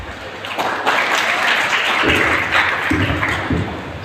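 Applause from a Hindi poetry recitation competition audience as a student performer comes on stage, a steady, dense wash of clapping that holds for about four seconds, fairly loud and near.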